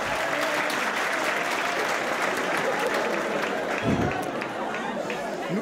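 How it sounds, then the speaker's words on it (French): A conference audience at a management and governance session applauds continuously in a full, steady wash of clapping, with murmured voices and chatter mixed underneath. "les applaudissements, on va les réserver à la fin de la séance"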